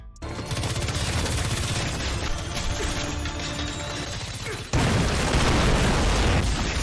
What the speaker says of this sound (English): After the explosion,